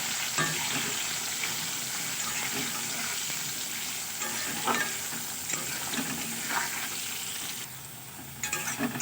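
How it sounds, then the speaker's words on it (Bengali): Potatoes fry in hot oil with salt and turmeric, giving a steady crackling sizzle close by, with occasional stirring scrapes and a few louder pops, and no one speaking. "দিয়ে আমি আলুগুলোকে লাল লাল করে ভেজে নেব"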